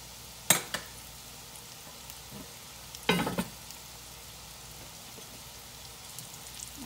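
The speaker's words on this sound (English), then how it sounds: "they're cooked in that seasoning off of that steak with that butter and the flavor from your steak" Potatoes and carrots frying in seasoned steak butter give a low, steady sizzle, broken by two brief louder bursts of crackle and spatter near the start and midway.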